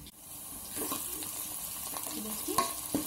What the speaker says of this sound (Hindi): ये हमारे प्याज भून चुके हैं, फ्राई हो चुके हैं